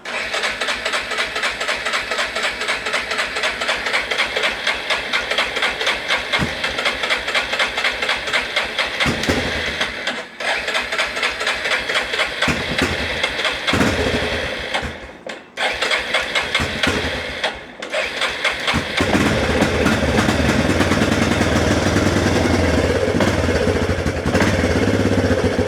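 A Yamaha Big Bear 350 quad that sat unused for years cranks in several bursts with short pauses, then catches and settles into a loud, steady, rough idle close by.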